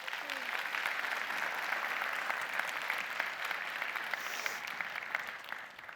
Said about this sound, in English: everyone give a round of applause to Rosalind